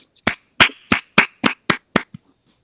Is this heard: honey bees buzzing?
no